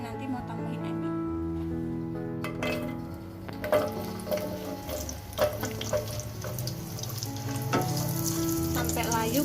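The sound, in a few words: sautéing spices for tempe gembus in a pan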